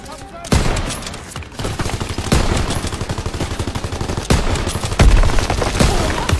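Sustained gunfire from a World War II battle in the Call of Duty WWII campaign, with rapid rattling bursts and sharp shots overlapping continuously at close range, several louder blasts punctuating the barrage.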